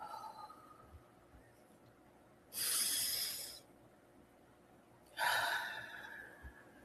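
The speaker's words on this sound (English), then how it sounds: "and exhale." Two slow, breathy exhales during a guided breathing exercise, each lasting about a second, fairly close and soft, separated by quiet pauses.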